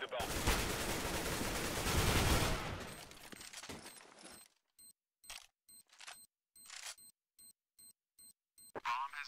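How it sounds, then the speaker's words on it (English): A bomb being defused in CS:GO: a burst of loud gunfire and noise fades out, followed by a steady series of short, evenly spaced electronic beeps against near silence. "Defusing the bomb."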